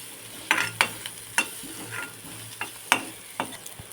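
Chopped onion fries in a pan for a Maharashtrian sev bhaji, with a steady sizzle broken by sharp scraping clicks of a spatula stirring at an uneven rhythm, close and fairly loud with no voices.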